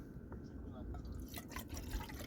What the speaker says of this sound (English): let's get a drop of water in this